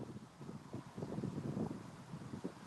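Gusty wind buffets an outdoor microphone, producing a steady low rumbling roar that swells and dips over a few seconds, with no talking.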